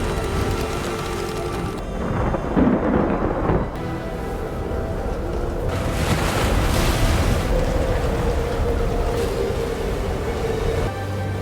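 Storm at sea in a shark film: loud, continuous crashing waves and roaring wind with deep rumbling surges, a heavy swell building in the middle and holding steady, no voices.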